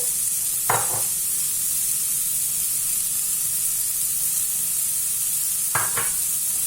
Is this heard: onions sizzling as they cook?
yes